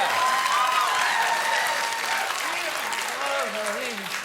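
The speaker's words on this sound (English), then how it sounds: "I'm not sure if you know what you're clapping for just then." A late-night TV studio audience breaks into loud, sustained clapping and cheering, with a voice speaking over it and rising whoops toward the end.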